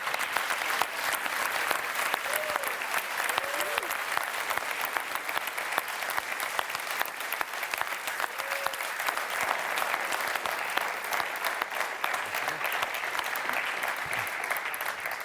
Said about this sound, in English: You guys all deserve a big round of applause